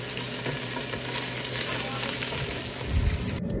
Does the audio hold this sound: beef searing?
yes